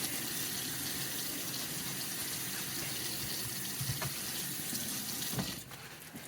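Tap water runs steadily into a sink while a floppy cornhole bag is rinsed clean of conditioner residue, a constant close hiss and splash that thins and drops in level near the end.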